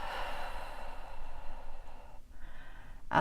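A slow exhale during guided meditation, a soft airy breath out that fades gently, followed by a brief quieter breath and a sharp sniff-like burst at the end, close and quiet with no speech.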